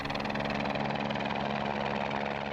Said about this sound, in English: this RCMP helicopter appeared.